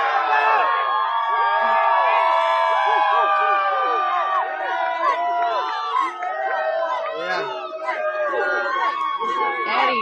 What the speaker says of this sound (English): Eddie, man, you have quite the crowd down there